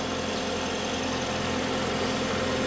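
Idling engine of a 2017 Toyota Aqua 1500cc hybrid car, a steady low hum with an even drone and no change in pitch, heard up close with no voices over it.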